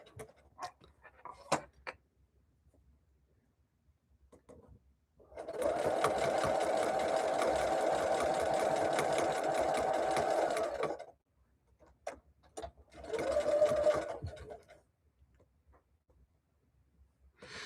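A home sewing machine stitches quilt block seams in one steady run of several seconds, then a second shorter burst, with small clicks and handling noises in the quiet gaps between.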